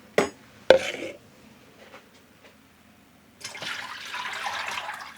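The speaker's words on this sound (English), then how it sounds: "we're adding in our water" Water pours into a tub used for dyeing yarn, cold tap water splashing steadily near the microphone after a few sharp clunks and quiet handling noises.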